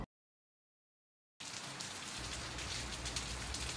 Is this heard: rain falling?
yes